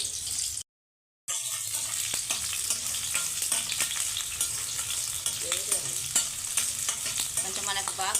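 Chopped onions frying in hot oil for gongura chicken gravy, a constant close sizzle broken by the clink and scrape of a stirring spoon, with a brief dropout near the start.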